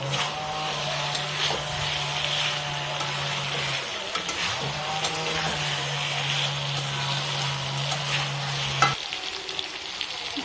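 Fried yam pieces stir-fried in hot oil over a high gas flame, a continuous sizzle with intermittent scraping of a spoon in the pan and a low steady hum in the background.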